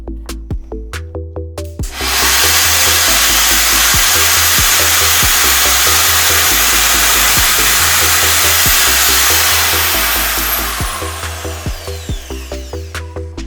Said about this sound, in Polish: Zakładam rurę od odkurzacza i przystępuję do wykonania odwiertu.